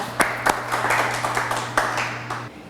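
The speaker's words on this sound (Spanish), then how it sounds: "Muy bien, un aplauso" Brief round of clapping from a studio audience on a television magazine show honoring a talented boy, a few sharp claps standing out over a steady patter, with a low hum underneath.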